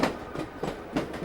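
A passenger train runs along the track with rhythmic clickety-clack wheel beats, steady and fairly faint, with no voices.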